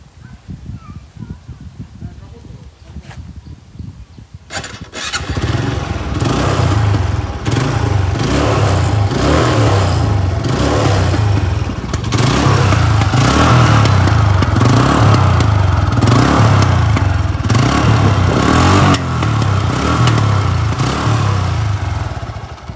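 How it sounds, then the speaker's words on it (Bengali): A 2018 TVS Apache RTR 160 motorcycle starts after a few seconds of quiet and settles into a loud, close, steady idle with a pulsing exhaust beat and occasional blips of throttle, while someone talks over it. "বাইকটি এখনো স্টার্ট অবস্থায় আছে। সাউন্ড একদম স্মুথ।"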